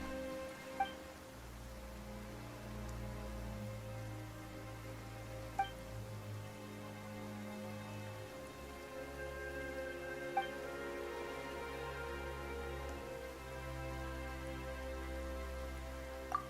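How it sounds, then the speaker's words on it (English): Steady, quiet rain falls in the video game Genshin Impact, a soft continuous hiss under low droning tones, with a few faint isolated ticks; no one speaks. "Why is it raining all of a sudden?"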